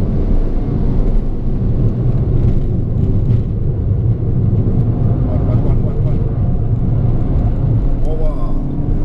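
Peugeot GTI hot hatch being driven hard through corners, its engine a steady, loud low rumble with road noise throughout while someone talks over it.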